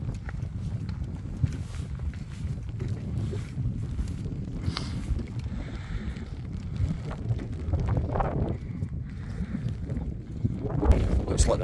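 Wind rushing across a mountainside near a false summit on Buachaille Etive Beag, a steady loud roar buffeting the microphone throughout with rumbling gusts.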